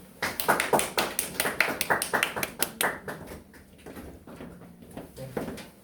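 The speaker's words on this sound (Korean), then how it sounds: "박수로 맞이해 주시죠" Scattered hand claps ring out at a Korean school admissions information session as an audience welcomes an incoming English instructor, a quick uneven burst that thins and fades within a few seconds.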